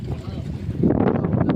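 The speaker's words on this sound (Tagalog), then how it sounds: "Lakas ng makina." A boat engine at sea throbs loudly under gusting wind noise, swelling to a heavier churn in the second half, with voices faintly mixed in.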